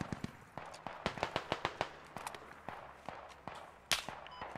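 Mortar shells exploding in the tactical shooter Squad: a rapid run of sharp, crackling blasts and pops, moderately distant, with one louder burst near the end.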